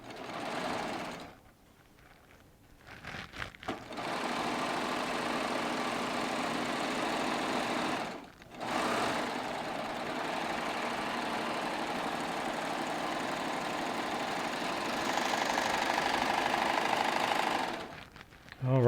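A Baby Lock Triumph serger stitches a seam in steady whirring runs, stopping briefly near the start and again around midway before continuing, close and fairly loud with no talking.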